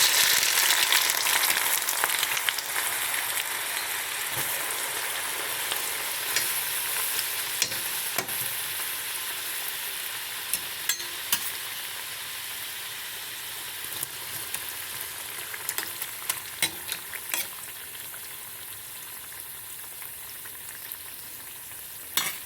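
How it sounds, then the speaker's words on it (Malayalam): Ginger pieces frying in hot coconut oil in a pan, a steady dense crackling sizzle with bursts of popping throughout, close and continuous with no talk. "അതിലേക്ക് ഞാൻ ഇഞ്ചി വരിടുകയാണ്"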